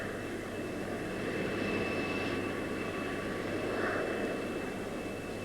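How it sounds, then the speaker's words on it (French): An aircraft engine drones steadily in flight, a constant close cabin hum with a broad rumble and faint tonal whine, no voices heard. "Burns, do you hear the right engine?"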